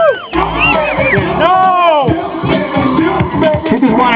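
A crowd at a car show in Atlanta cheers, whoops and shouts loudly and close by. Overlapping voices rise and fall in excited bursts, and a single voice calls out briefly amid the noise.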